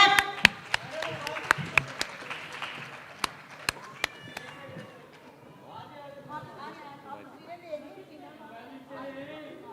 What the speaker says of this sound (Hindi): तालियां क्लैप।